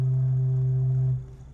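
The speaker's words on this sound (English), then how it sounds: "So there's what you're hearing is air in here vibrating Coke bottle style." A church organ flue pipe sounds a steady, pure-toned note with a few faint overtones, holding evenly for about a second before releasing and fading into the room. No voices are present.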